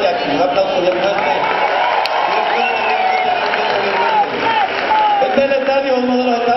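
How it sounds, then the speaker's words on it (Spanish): A stadium crowd applauds and cheers loudly for baseball players, a dense, continuous roar with voices and whoops mixed in and music over it. "Un aplauso bien fuerte."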